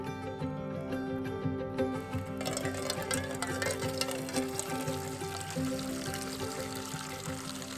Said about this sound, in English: Got water on for coffee.